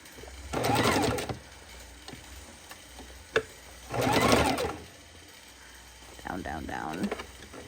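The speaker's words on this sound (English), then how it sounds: "The Singer Heavy Duty machine, it gets a little cranky below 1." A Singer Heavy Duty sewing machine running a narrow zigzag stitch in short bursts: two solid whirring runs, a sharp click between them, then a lighter, slower stretch of stitching near the end.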